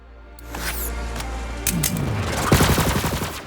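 Rapid gunfire from a Jakobs weapon in the PC shooter Borderlands 3: loud bursts of shots, a few spaced cracks followed by a denser volley with clanking mechanical detail, heard up close and alone.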